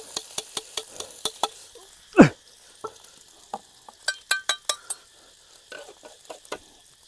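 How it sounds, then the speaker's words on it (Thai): Beaten egg frying in a pan for an omelette in an outdoor rural setting, with a series of sharp stirring and scraping clicks against the pan, a soft sizzle underneath and one louder scrape partway through. "เทไข่ลงไป"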